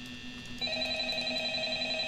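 A telephone rings in the Five Nights at Freddy's game, a steady electronic ringing tone that starts softly and grows louder partway through, continuing with no one speaking.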